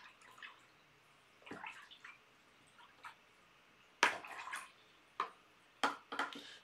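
A paintbrush is swished and tapped in a water jar while swatching watercolour paints, giving faint, scattered splashy clicks and sloshes in short bursts, close and quiet.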